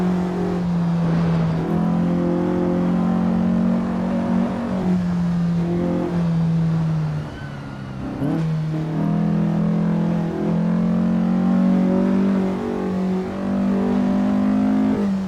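A race car engine on the 1957 Pescara circuit in the Assetto Corsa driving game hums loud and continuous, pitch rising through the gears and dipping briefly midway before climbing again, with no voices.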